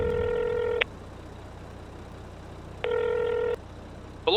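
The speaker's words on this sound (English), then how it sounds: "I'm going to phone the dealership." A phone dials and rings in the farming video game, with two long electronic tones separated by a low hum and a third starting at the end.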